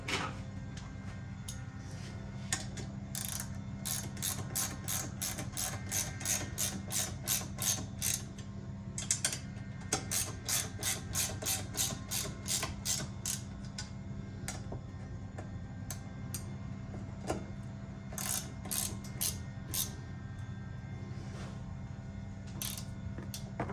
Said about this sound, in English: we're gonna go ahead and tighten this down.